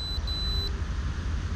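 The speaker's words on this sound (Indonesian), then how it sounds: "kode bip bip bip itu artinya ada gangguan. Ini salah satunya adalah magnetic interferensi" Autel Evo 2 drone sounding its warning for magnetic interference: a short series of high, thin electronic beeps in the first half-second over a steady low hum, then only the hum continues.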